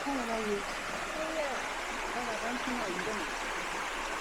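A mountain stream beside a campsite rushes in a constant, even hiss of flowing water, with faint voices drifting underneath.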